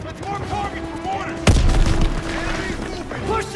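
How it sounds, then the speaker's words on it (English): Grenade explosion in the World War II game Call of Duty WWII, one sharp heavy blast midway through amid ongoing gunfire and battle noise, with shouted voices around it. "Grenade out!"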